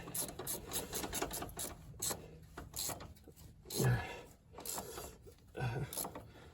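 A ratchet clicks in short bursts while torquing a coilover bolt at the knuckle of an EA82-chassis Subaru, uneven strokes with a few heavier clunks, fairly quiet and close.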